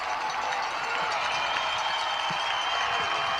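A large Gloucester fishermen's crowd cheering at a 1998 high school football Super Bowl game against Rockland, a steady distant roar of voices and applause lasting throughout without pauses.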